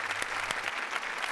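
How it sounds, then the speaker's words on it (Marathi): Studio audience at a Marathi comedy show claps enthusiastically, a dense, steady burst of applause filling the short moment without speech. "जोरदार टाळ्या मानसीसाठी."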